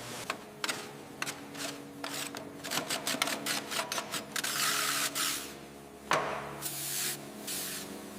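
Pressure washer spraying water across the frame of a large abandoned military tank during restoration, heard as short hissing bursts that stretch into longer steady blasts, fairly close with no talking.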